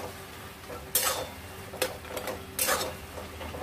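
Garam masala powder is stirred into fish-head pui shak in a pan: a soft background sizzle broken by three or four brisk scraping strokes of the spatula against the metal, close and moderately loud, with no talk.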